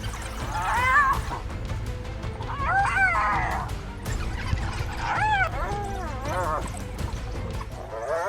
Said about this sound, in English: The hyena crouches low, growling warningly, trying to hold on to its prey.